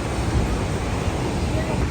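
Water pours down an ancient waterfall in California as a steady, loud, broadband roar that holds unchanged throughout, with no other sounds standing out.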